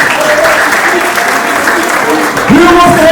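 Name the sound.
audience applause at awards night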